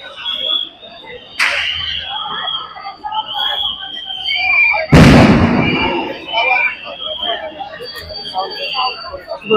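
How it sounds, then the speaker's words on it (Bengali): Police fire sound grenades, tear gas and blank rounds at BUET students during a protest: one sharp report early on, then a much louder, booming blast midway, with crowd noise and voices throughout. "শিক্ষার্থীদের ওপর থেকে শুরু করে সাউন্ড গ্রেনেড থেকে শুরু করে কাঁদানে গ্যাস এবং ফাঁকা বুলেট কিন্তু পুলিশ ছুড়েছে"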